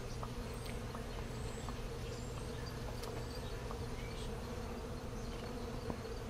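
Honey bees hum and buzz steadily on hive frames during a queen-marking hive inspection, a dense, continuous close-up drone with no talking.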